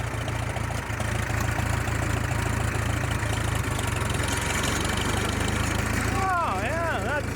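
A 1938 Farmall F-20 tractor engine chugs steadily in second gear with a loud, low, rhythmic throb that runs throughout, and a brief whistle-like sound near the end.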